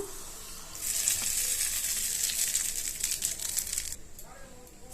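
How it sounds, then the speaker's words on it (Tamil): Hot tempering with curry leaves poured into coconut-style chutney for wheat dosa, a bright hissing sizzle that flares up and holds for about three seconds before cutting off, with faint kitchen sounds around it. "இப்போ இந்த தாளிப்பை சட்னியோட சேர்த்துக்குவோம்."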